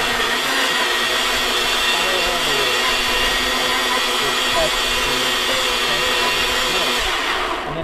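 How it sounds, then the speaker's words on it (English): A kitchen blender whirs steadily while mixing a berry smoothie, a loud continuous motor drone with a sustained buzzing tone that holds level throughout and tapers off at the very end. "before I put it on my blender, I really wanna make sure that the top is on nice and tight."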